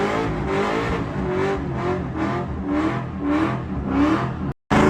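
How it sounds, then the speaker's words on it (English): A car engine, fitted with a Stifflers driveshaft loop, revs hard in second gear, bouncing off the rev limiter in a steady pulsing stutter, loud and close, before cutting out briefly. "Here's second gear, rev limiter"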